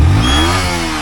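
A vehicle engine, called a beast, revs loud and close, its pitch climbing in one short burst with no talking.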